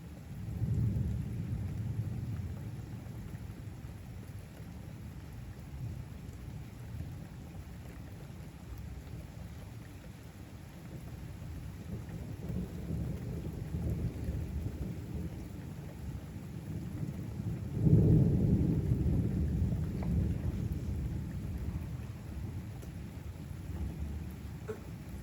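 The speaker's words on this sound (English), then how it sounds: "Sometimes thunderstorms with hail are so scary." Night thunderstorm with steady rain and hail on surfaces, low rolling thunder rumbling throughout and a louder thunder burst later on, fairly faint and distant.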